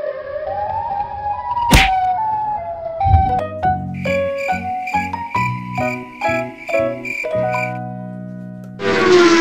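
An electronic Siren Head monster siren from a video game wails and warbles, with sweeping tones, sharp stabs and rhythmic pulsing notes, loud and synthetic, ending in a burst of noise.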